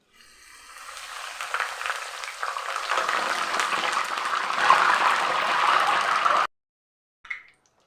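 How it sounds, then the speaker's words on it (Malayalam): Curry leaves dropped into hot oil in a home kitchen, giving a loud, steady spattering sizzle that builds over several seconds, then cuts off abruptly, followed by a brief faint clatter. "നമ്മൾ കറിവേപ്പില ഇട്ട് കൊടുത്ത് നല്ല പോലെ ഒന്ന് പതഞ്ഞ് ഒതുങ്ങിയതിന് ശേഷം"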